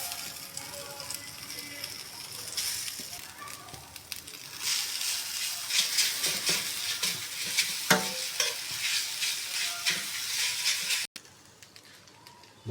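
Noodles tossed into a wok with already-sautéed vegetables for smoky-flavoured noodles, stirred and frying in a loud, steady sizzle with scraping and clattering strokes that build midway and break off near the end.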